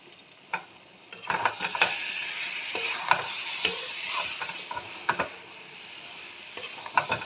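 Cabbage with a little coriander leaf frying in a pan, a soft hiss of sizzling under repeated clanks and scrapes of a spoon stirring, close up and uneven in rhythm, no talking.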